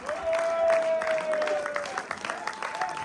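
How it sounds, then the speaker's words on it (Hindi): Applause from an audience at an awards ceremony for film, TV and stage artists rises and falls in uneven waves, with a held tone and some speech-like sounds mixed in. "भरपूर तालियां होंगी, कोई बंदा सीट पे ना हो प्लीज"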